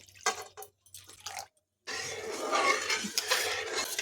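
Rice flour batter poured into a pan for homemade papad and stirred steadily, giving a close wet pouring and dripping sound, then continuous scraping and sloshing of the spoon against the pan after a brief pause.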